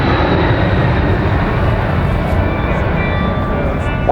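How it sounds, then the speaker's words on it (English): A C-17 Globemaster military transport jet accelerating during an air show flight demo, a loud, steady broadband engine roar holding constant throughout without pause. "push over as the aircraft accelerates"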